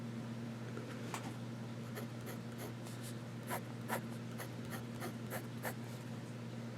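Wing Sung 3003 fountain pen with a wet nib writing little S shapes on paper, faint soft scratchy strokes in a loose rhythm over a steady low background hum, with no voices.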